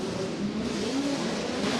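USAC race cars circle the Du Quoin dirt track at moderate pace behind caution, a continuous engine drone rising and falling as cars pass at mid distance.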